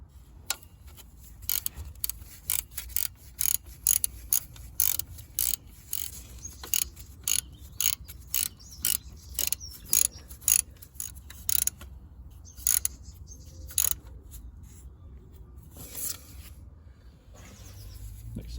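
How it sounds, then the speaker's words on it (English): Ratchet tightening the alternator bolts on a Land Rover Freelander 2: steady rounds of quick metallic clicks, close and fairly loud, repeating in short bursts across the whole stretch. "next I'll be tightening the 2 bolts up."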